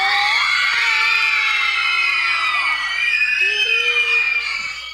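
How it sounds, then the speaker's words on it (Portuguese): A group of children screaming together on a simulated roller coaster ride, loud shrill overlapping shrieks that rise and fall over several seconds. "E o que eu ouvi aqui foi o grito das crianças."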